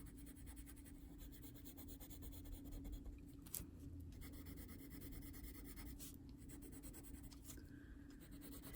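A watercolor pencil scratches steadily across a paper postcard, a faint continuous dry rasp of strokes with a few brief sharper scrapes, heard alone and up close.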